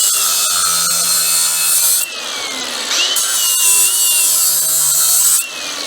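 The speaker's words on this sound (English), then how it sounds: "If you just take this mini grinder," A mini grinder cutting through brake tabs on a car, a loud continuous high whine that rises and dips in pitch as the cut loads and eases, close and alone.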